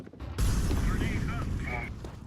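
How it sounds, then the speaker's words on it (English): Smoke grenade thrown in Counter-Strike, a sudden loud burst followed by a long steady hissing whoosh of smoke pouring out, with a game voice speaking over it. "Throwing smoke."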